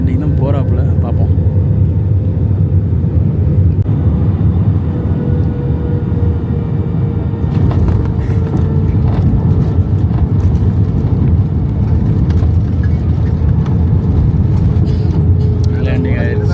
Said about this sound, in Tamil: Madurai airport landing.